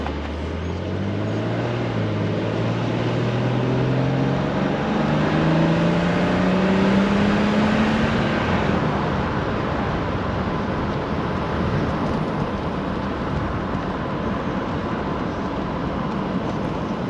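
A 1999 BMW M3 convertible pulls away and accelerates, engine note rising steadily through the gears, then settling into a loud continuous cruising roar with road and wind noise, no talking.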